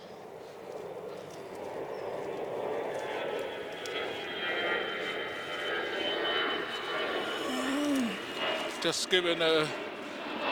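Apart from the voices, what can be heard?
aeroplane flying overhead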